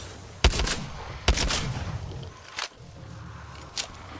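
Gunfire in a video game: a few sharp, loud shots spaced irregularly, with lighter pops and a quieter background between them.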